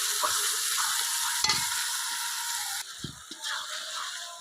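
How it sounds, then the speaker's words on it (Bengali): Spice paste fries in a pan for a chicken dish with a continuous sizzle, while a utensil scrapes and stirs it in several close, brisk strokes. "মশলাটা এটা আমি দিয়ে মশলাটা একটু কষিয়ে নেবো"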